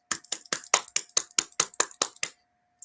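One person claps eleven sharp, evenly spaced times in a close, dry room, each clap distinct and crisp before silence, with a faint steady hum underneath.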